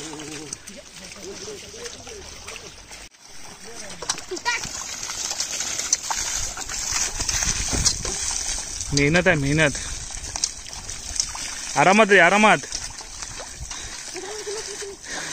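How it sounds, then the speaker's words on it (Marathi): Water sloshes and splashes repeatedly as it is scooped with a bucket and thrown across a dry rice paddy in the Konkan countryside, with people talking and calling out over the wet splatter. "बालडीने पाणी भरून भरून घेऊन जावं लागतंय"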